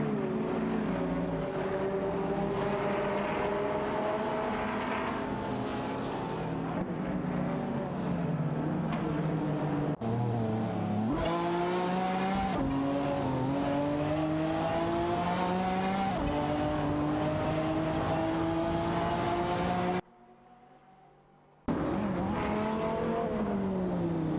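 In a video game race, a Ford GT and other race cars drone past with continuous loud engine whine, pitch climbing and dropping through gear shifts, with a brief cutout near the end before the engines return.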